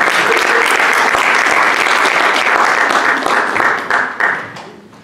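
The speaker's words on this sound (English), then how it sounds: "let's go round of applause for Abby." Audience applause greets Abby, the final speaker of the night at an evening event, a dense, loud wash of clapping from many hands that holds steady before tapering off near the end.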